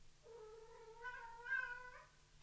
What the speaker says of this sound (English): And that was my cat.